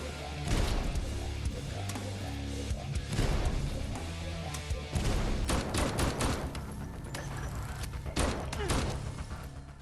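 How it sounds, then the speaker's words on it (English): Heavy gunfire from shooter game Nightmare Reaper, with repeated punchy shots and crashing bursts in clusters across the whole stretch, loud and dense, partly overlapped by a voice talking. "Guns sound like they have some power and weight behind them"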